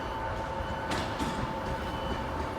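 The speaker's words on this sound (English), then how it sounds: "Coming in now is going to be, the 1301 Avanti West Coast service to, Glasgow Central, Edinburgh" Avanti West Coast passenger train to Glasgow Central and Edinburgh arriving at Carlisle station on the West Coast Main Line, a steady rumbling roll with a faint whine and two brief hissing bursts.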